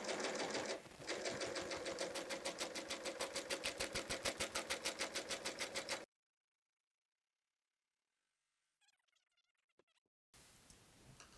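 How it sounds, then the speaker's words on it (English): A serger runs at speed, its knife trimming a thin edge off fabric for a placemat, a rapid loud mechanical chatter for several seconds before stopping into near silence, then faint handling noise. "let the knife just skim off the teensiest bit of that fabric"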